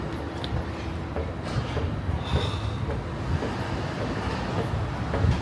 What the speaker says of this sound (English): There's actually no way we can take the wrong train now because only one train comes to this station